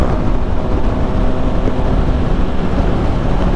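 Honda CB650R E-Clutch motorcycle cruising along on the road to Kaybiang Tunnel, a steady close engine hum blended with heavy wind rush, constant and unbroken with no voices.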